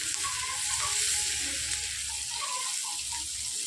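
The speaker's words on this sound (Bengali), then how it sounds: "এই যে তেলটা গরম হয়ে গিয়েছে, তেলের মধ্যে পেঁয়াজটা দিয়ে দিলাম। পেঁয়াজটাকে একটু নাড়াচাড়া করলাম," Onions sizzling in hot oil while being stirred, a soft, steady crackling hiss with faint scraping, fairly quiet and uninterrupted.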